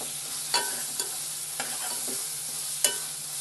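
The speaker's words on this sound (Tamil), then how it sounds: "தக்காளி நல்லா வதங்கட்டும், ஒரு கிரேவி பதத்துக்கு வருத்தம் இது." Tomatoes cook down with ginger garlic paste in a pan for a liver gravy, a soft continuous sizzle broken by four or five brief spatula scrapes.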